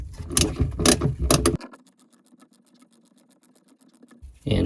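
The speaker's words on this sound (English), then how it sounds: "I will transition back to the ratchet and socket" Ratchet and socket tightening the fuel injector bolts on a 2003 Sea-Doo GTX 951 DI engine, with a few loud clunks followed by a quick run of fine, close ratcheting clicks.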